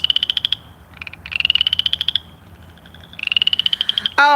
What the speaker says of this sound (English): y'all can hear that. That frog is real close.